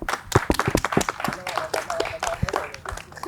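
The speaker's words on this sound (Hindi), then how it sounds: "चलिए आप सभी लोग अपने लिए आपस में सबके लिए तालियां बजा लो जरा।" A group claps in a brisk, uneven burst of applause, with a few voices and a faint tone mixed in.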